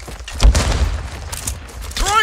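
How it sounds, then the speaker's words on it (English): Grenade explosion in a PC first-person shooter, a heavy low boom near the start amid ongoing gunfire and battle noise, with a voice shouting over the action. "Throwing grenade!"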